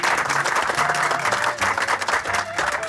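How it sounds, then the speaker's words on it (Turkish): A studio audience applauds on a Turkish comedy show, lively crowd clapping with a few brief voices and cheers mixed in, loud and close, swelling and dipping slightly. "O zaman Korhan Bey'e bir alkış"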